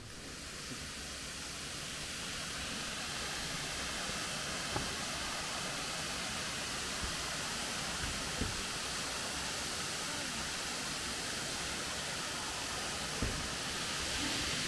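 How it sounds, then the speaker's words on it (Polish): Sunanta waterfall in Nakhon Si Thammarat, Thailand, a steady broadband roar of falling water that holds constant throughout, close and fairly loud, with no talk over it. "Po krótkim marszu osiągamy nasz cel wodospad Sunanta."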